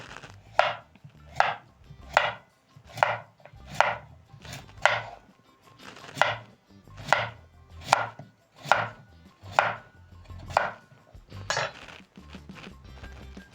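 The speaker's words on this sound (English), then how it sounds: "using a sharp knife, I'm going to cut the potatoes lengthwise" Sharp knife chopping potatoes lengthwise on a board, about fifteen crisp even strokes in steady rhythm, close and clear with no talk.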